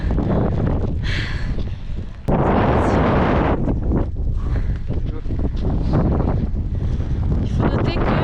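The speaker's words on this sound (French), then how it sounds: "Il y a gavé de vent." Strong wind buffets the microphone in heavy, uneven gusts on Mount Bromo in Java in cold rain, loud and close, with one brief dropout and no clear talk.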